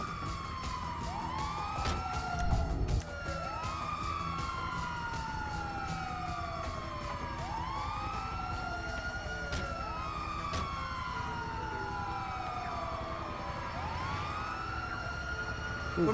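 Ambulance siren in the GTA 5 video game, a continuous wailing siren that rises and falls repeatedly for about sixteen seconds at steady loudness, with a few sharp clicks and faint background noise.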